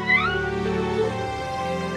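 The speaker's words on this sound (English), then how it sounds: "Thank you all for bringing my little kitty back home." A cartoon kitty gives a high, bending meow near the start, then a softer trailing mew fading into a held tonal tail.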